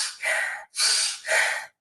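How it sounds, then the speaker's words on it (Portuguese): Three deep, close breaths, each a loud, airy inhale or exhale separated by short pauses, heard alone with no talking. "eu estou respirando fundo"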